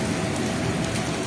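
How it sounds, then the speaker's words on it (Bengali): Steady rain falling during a May pre-monsoon storm, a continuous even hiss close to the microphone with no breaks, with no voices over it. "আবার পুনরায় বৃষ্টির লাইভটি ক্যামেরা ধরলাম আমি"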